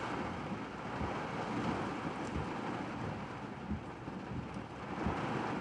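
Thunder rumbles low and continuous through a severe nocturnal thunderstorm in Central Texas, mixed with steady heavy rain and wind noise, with no clear single crack.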